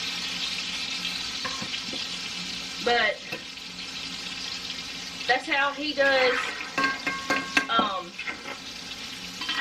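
Steady sizzling of breaded deer cube steak frying in a pan, with occasional stirring and scraping, while a person speaks briefly over it.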